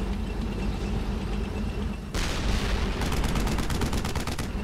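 Battlefield gunfire in the World War II shooter Brothers In Arms: Hell's Highway, with a loud burst arriving midway and then a rapid rattle of automatic fire over a dense rumbling din.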